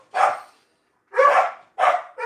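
Dogs barking indoors, three loud close barks with a pause after the first, then a shorter yip at the end, with no other sound between them.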